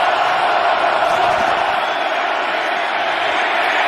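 Football stadium crowd at the Super Bowl roaring loudly against quarterback Burrow, a dense, sustained wall of cheering that stays near and powerful throughout.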